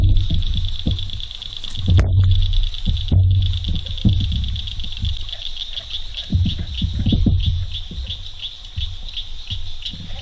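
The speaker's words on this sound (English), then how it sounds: "That's a frog of some kind." A frog calls repeatedly at night in wooded Kiamichi Mountain country, a steady high trilling chorus running through the whole stretch with faint low rustles and thumps nearby.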